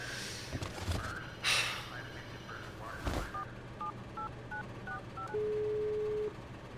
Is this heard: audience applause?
no